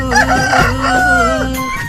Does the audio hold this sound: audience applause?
no